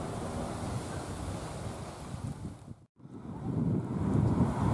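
Breezy wind at New Smyrna Beach, Florida, buffets the microphone as a steady, close rumbling rush of air, briefly dropping away to near quiet before gusting back up stronger.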